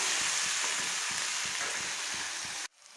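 Okra frying in oil sizzles with a steady, dense crackle close up, then cuts off abruptly near the end.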